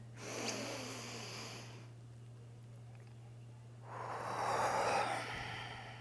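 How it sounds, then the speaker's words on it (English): Heavy, forceful breathing during an intense breathwork exercise: two loud bursts of rapid breaths separated by a quieter pause, heard close and alone over a steady low hum. "Keep breathing."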